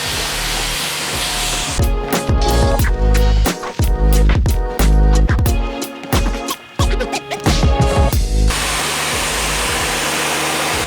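A pressurised water spray washes down a flood-damaged car, hissing loudly and steadily from start to end, with a burst of choppy, sputtering bursts through the middle before the even hiss returns.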